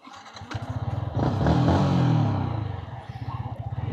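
A Yamaha MT-15 naked motorcycle idles with a quick rapid putter, then revs up loudly as it pulls away on a test ride, the engine note rising and then settling back into a pulsing idle, close to the microphone.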